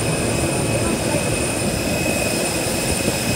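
Airplane jet engine droning steadily at an airport ahead of boarding a flight, a constant loud roar with high whining tones throughout, heard alone without clear talk.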